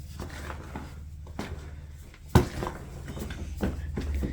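Seed starter soil stirred up inside a container, close up: repeated gritty scrapes and rustling strokes with one sharp knock against the container partway through, and a steady low hum beneath, with no voices.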